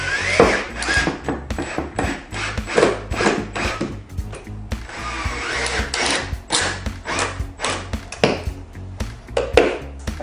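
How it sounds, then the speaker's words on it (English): A power driver sinks regular drywall screws into a wooden garage shelf in repeated whirring, grinding bursts, close up, with clatter and knocks between them. "then we'll screw it in. I'm just using regular drywall screws."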